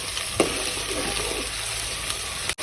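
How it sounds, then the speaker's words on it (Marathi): Potato, tomato, bay leaf and green chilli frying together in a pan for khichdi: a constant close sizzle with a few soft stirring scrapes and a clatter near the end, and no one speaks. "त्याला चांगल्या प्रकारे असं मिक्स करून घ्यायचं"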